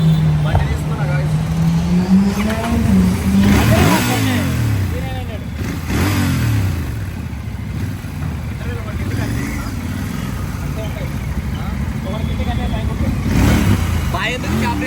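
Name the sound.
motorbike engine revving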